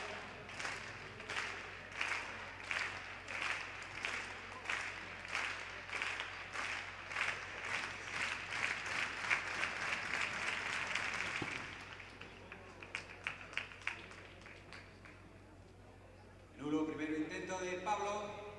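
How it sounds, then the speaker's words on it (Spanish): Spectators clapping in rhythm for long jumper Pablo Modia at an indoor athletics championship, a steady, accelerating beat that fades before a brief burst of cheering near the end, with distant talk. "tamén nos pide palmas Pablo."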